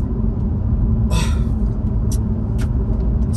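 A BMW 520D on the move gives a steady low engine and road rumble, loud and close from start to finish, with a few brief hissing bursts over it.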